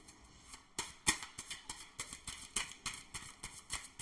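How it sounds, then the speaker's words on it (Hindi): Tarot cards are shuffled by hand up close, making a quick series of soft papery taps and riffles in uneven bursts with no voices. "एक और बार शफल करेंगे हम।"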